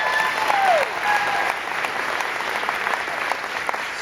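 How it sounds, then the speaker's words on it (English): A live crowd at a comedy hypnotist show breaks into a big round of applause, dense sustained clapping filling the room, strongest at the start and then easing to a steady patter. "Let's give these guys a big round of applause"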